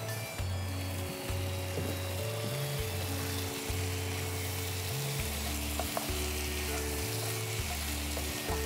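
Chicken curry with spices and ground pepper fries in a hot pan, giving a steady, close sizzle that holds unbroken for the whole stretch, with a low hum running beneath it.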